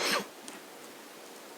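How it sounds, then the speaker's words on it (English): A single sharp cough or throat clear bursts out in a council meeting room, brief and close, followed by quiet room tone and a faint second sound. "Now we're all coughing."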